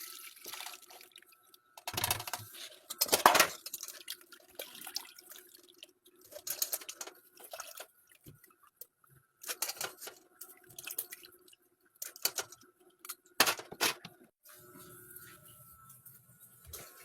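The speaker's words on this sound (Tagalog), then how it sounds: "Salain natin yung gata." Coconut milk being strained in a home kitchen, with intermittent bursts of pouring and dripping liquid separated by quiet gaps, plus soft handling sounds, close and moderately loud.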